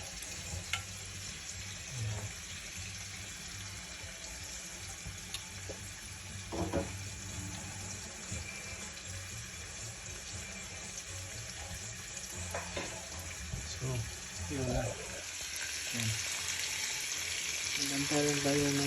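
Onions and tomatoes fry in a pan with a steady sizzle, broken by occasional stirring clatter and faint running water nearby.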